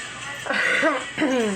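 Two short, rough coughs from one person, close and loud, with a brief pause between them.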